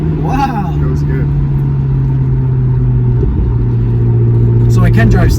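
The engine of a 1997 Lotus Esprit V8 twin turbo hums steadily from inside the cabin, then rises as the car accelerates, with people talking over it.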